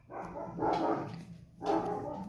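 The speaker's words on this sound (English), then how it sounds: "My dogs are barking." Dogs barking indoors in two loud bursts about a second apart, close by and with no talk over them.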